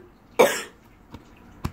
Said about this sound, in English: just a small cough